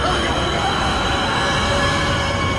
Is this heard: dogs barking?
no